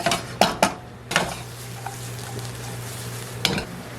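Half an onion goes into a pan preheated on medium for miso eggplant: a few sharp clattering knocks come first, then a soft, steady sizzle with a low hum underneath. No one speaks.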